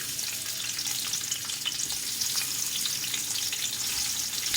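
Sliced onions frying in about half a cup of hot oil for chicken biryani, a dense, continuous close-up sizzle with fine crackling and no voices.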